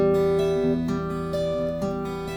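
Quiet fingerpicked guitar notes plucked softly one after another, thin and subdued, with no voices.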